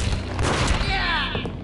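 Gunfire in the Max Payne video game, a dense burst of shots and booming impacts filling the whole moment at close range, mixed with a voice and game effects.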